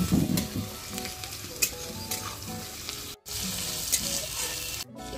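Chopped tomato goes into onions frying in a pan on a clay stove, setting off a loud, close sizzle with stirring scrapes, cut by two short gaps of silence.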